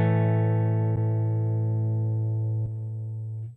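A clean electric guitar chord from a Sonicake Matribox 2 rings out with reverb, re-struck twice and sustaining steadily, close and fairly loud with no voices.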